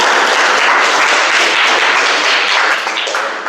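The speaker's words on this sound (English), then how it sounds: "Give a big round of applause to Pooja" An audience at a Becoming Supernatural group meeting gives a big round of applause for Pooja: a loud, dense wash of many hands clapping close by, steady throughout and easing slightly at the end.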